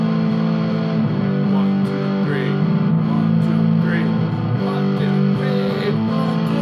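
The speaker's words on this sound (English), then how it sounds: "she kicks on distortion" An electric guitar strummed hard through distortion in the loud part of a song, with a thick, sustained, buzzing wall of chords held steady and close throughout.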